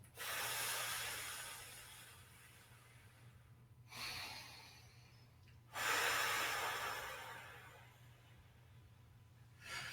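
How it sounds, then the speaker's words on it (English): Deep breathing exercise during a shiatsu session: slow, close breaths drawn in and let out as airy, hissing rushes, with long swells separated by brief quiet gaps and no talking. "bring out the breath, bring up the hands, breathe in, breathe out and stretch back. 3 breaths."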